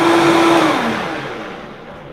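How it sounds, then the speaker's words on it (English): A blender whirs loudly at the start with a steady motor tone that drops in pitch as it runs, blending kale and banana into a smoothie. "Okay, so I'm going to turn the blender on."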